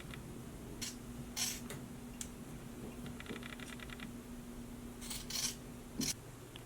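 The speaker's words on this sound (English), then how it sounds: "So trim away that seam allowance." Scissors trimming the seam allowance on a sewn shirt neckband: a few sharp snips and crisp blade clicks, close and fairly soft, spread irregularly over a low steady hum.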